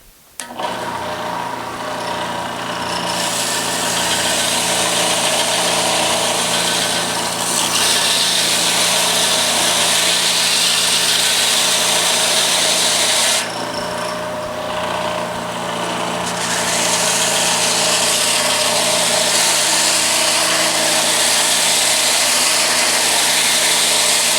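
A power tool bevels the edges of a steampunk guitar body in a loud, sustained whining and sawing grind that runs continuously, with brief dips where the cut pauses, and no speech.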